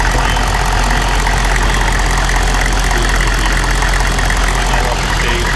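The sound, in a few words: 1994 Chevrolet Silverado pickup engine revving and idling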